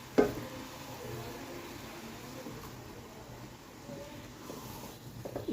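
Faint soft scraping and wet stirring as cooked rice is gently folded into jaggery syrup in a pot, a quiet continuous shuffle with a brief clink at the start.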